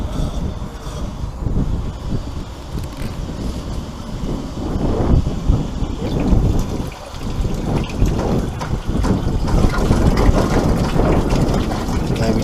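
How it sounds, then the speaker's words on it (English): A bilge pump on a boat under restoration pushes water out through a newly fitted side connection, a loud continuous rushing, gushing flow with rumbling churn that builds slightly over twelve seconds. "then we're going to turn this bilge pump on, and then check that's coming through this new connection"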